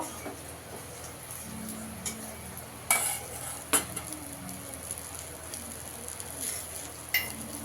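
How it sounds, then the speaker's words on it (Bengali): Lentil dumplings (bori) frying in oil, a faint steady sizzle close by, broken by a few scattered clinks and taps of a spatula in the pan. "বড়িগুলোকেও লাল লাল করে ভেজে নিয়েছি"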